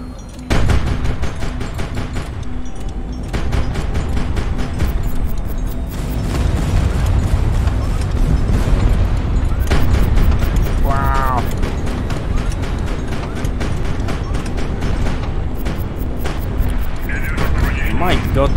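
Naval battle in the video game HighFleet, with R5 Zenith missiles and rapid gunfire, sounds as dense, rolling bursts of shots and booms that run almost without pause, with a sweeping whine partway through.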